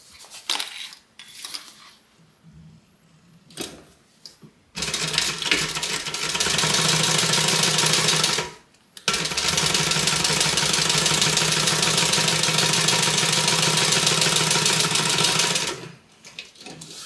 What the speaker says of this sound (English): we're going to stitch the bottom.